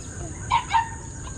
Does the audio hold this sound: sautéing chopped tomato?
no